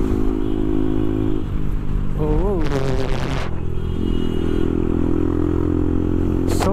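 A motorcycle engine drones steadily while riding at speed, with a brief rising and falling rev in the middle, wind noise and a sharp scraping burst near the end.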